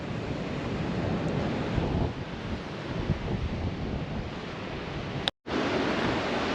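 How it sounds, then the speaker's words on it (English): Distant ocean waves crash and roll on a Western Australian coast, a steady broad wash with gusting wind buffeting the microphone and a brief dropout near the end. "it's just so enjoyable to watch the waves crashing in the distance"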